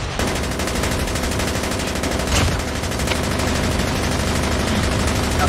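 Relentless automatic gunfire in Call of Duty Mobile zombie mode, a loud, continuous rattle of rapid shots that runs the whole stretch with barely a pause.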